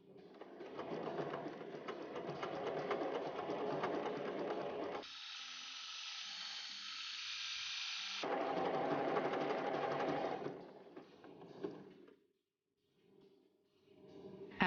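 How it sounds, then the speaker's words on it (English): Sewing machine stitching a buttonhole with a buttonhole presser foot: close, steady mechanical whirring with a brief higher-pitched stretch in the middle, then more stitching before stopping. "using the special button-holding presser foot, you can sew buttonholes easily and accurately"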